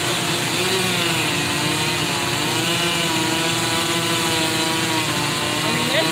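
A chainsaw runs steadily at high revs while cutting down a tornado-damaged tree, a loud continuous buzzing whine that holds close and constant the whole time.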